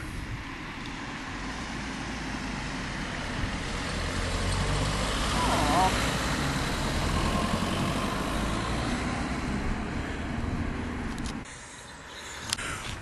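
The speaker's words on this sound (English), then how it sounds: "Car coming off the road." A car pulls off a country road in the New Forest near Godshill, its engine rumbling steadily and swelling slightly before fading, with someone talking over it.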